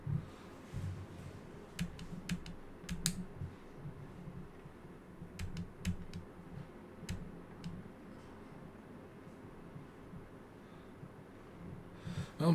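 Electric trim switch in an A2A Cessna 182 flight simulator clicks in short rapid bursts, sharp faint ticks clustered in groups over a low cockpit engine drone.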